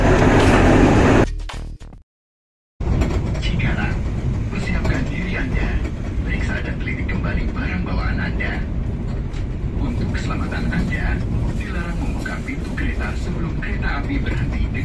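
Tawang Jaya Premium passenger train on Indonesian rails rolling to a stop, with a steady rumble and clatter of carriages heard from on board, preceded by a brief cut to silence.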